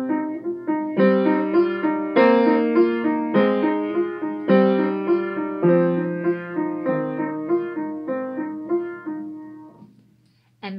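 Piano playing Le Bateau sur l'eau with both hands, a lower melody singing over right-hand notes, in a steady, gently struck rhythm of plucked-decay notes, clear and close, ending with a brief pause and one final note.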